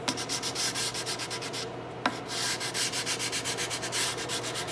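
Hand sanding a wooden gun stock with 150 grit sandpaper, a close steady rhythm of rasping back-and-forth strokes with a brief pause midway.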